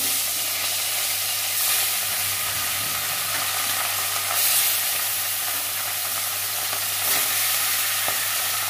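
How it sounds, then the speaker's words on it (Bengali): Pieces of rohu fish fry in a pan, giving a steady close sizzle and spatter with occasional louder bursts of crackling. "মাছগুলো ভেজে নিচ্ছি, রুই মাছ কাটা"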